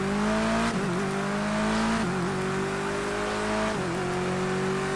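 A touring car engine in a British Touring Car Championship racing video game drones loud and steady, its pitch dipping briefly at each of three gear changes before climbing again.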